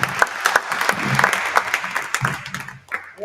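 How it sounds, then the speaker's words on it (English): An audience applauds the co-founders at an organisation's event, a dense, steady round of many hands clapping at moderate volume, easing off slightly near the end. "let's go ahead and give a huge round of applause to our co-founders"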